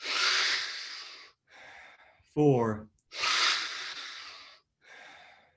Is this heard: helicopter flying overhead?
no